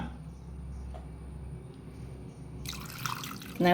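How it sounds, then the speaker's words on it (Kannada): Water trickles into dosa batter made from a blended paste in a bowl, heard as a soft, steady flow with faint drips. It brightens into a stronger splashing pour near the end. "ಇನ್ನು ಇದಕ್ಕೆ ಸ್ವಲ್ಪ ನೀರನ್ನು ಹಾಕೊಳ್ಳೋಣ."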